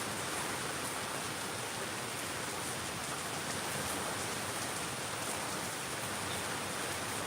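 Heavy, steady rain pours down during a severe storm as a constant, dense hiss that fills the whole stretch evenly, with no voices over it.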